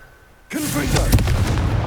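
Casting Confringo in Hogwarts Legacy sets off a sudden fiery blast, a loud booming burst that erupts after a brief quiet and rumbles on with crackling debris.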